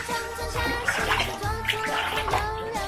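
Water runs and splashes steadily while a cat is rinsed during its bath, with a continuous gushing spray and brief human sounds mixed in.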